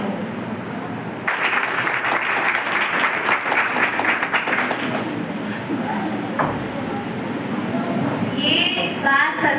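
Audience applause at a college of education Janmashtami program, starting abruptly and continuing as dense, steady clapping from a sizable crowd, with a brief dip and some voices and chatter mixed in near the end.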